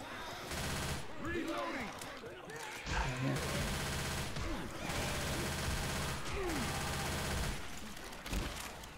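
Bursts of automatic and single gunshots ring out in the video game Left 4 Dead 2, loud and close, firing almost nonstop with voices chattering beneath.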